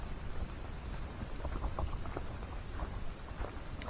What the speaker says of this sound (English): The water droplets are from the trees.